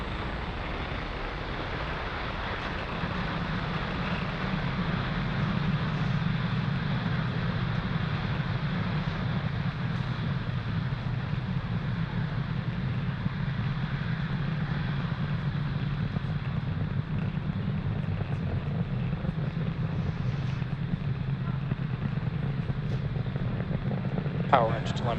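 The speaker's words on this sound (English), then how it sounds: "Falcon 9 has successfully lifted off from pad 40" Night launch of a Falcon 9 rocket from pad 40: a steady, broad low roar holds for the whole span, with a voice talking over it throughout.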